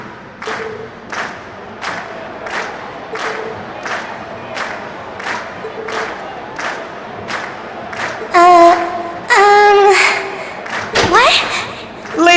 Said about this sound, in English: And we've heard your cheers loud and clear.